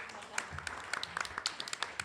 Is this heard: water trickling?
no